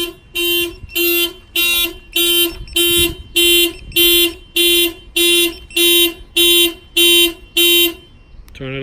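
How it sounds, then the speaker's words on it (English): A Clifford 3305X two-way car alarm blares in loud, regular pulsing bursts, about a dozen repeated tones close by, then cuts off abruptly. "Now if I bang on the window, the alarm will fire off, of course."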